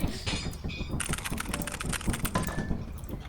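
Rapid clicking of a computer keyboard during a Lethal Company game session, a close, busy run of key presses that continues for a few seconds with no talk over it.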